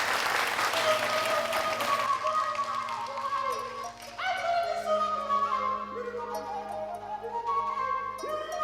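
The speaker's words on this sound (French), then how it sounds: "Merci de l'applaudir bien plus fort que cela." A studio audience on a television entertainment show claps for about two seconds, then the applause fades as music with sustained tones takes over.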